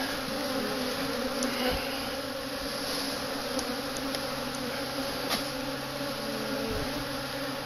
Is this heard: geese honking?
no